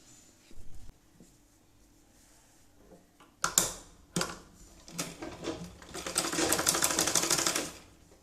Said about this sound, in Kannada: ಇವಾಗ ಈ ಎಡ್ಜದಿಂದ ಸ್ಟಿಚ್ ಹಾಕ್ತಾ ಹೋಗಬೇಕು, ಇಲ್ಲಿಂದ ಸ್ಟಿಚ್ ಹಾಕ್ತಾ ಹೋಗಬೇಕು